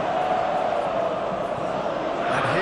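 A steady, loud stadium crowd roar fills a PES 21 football match simulation of Turkey against Brazil, a broad wash of cheering voices with no distinct peaks.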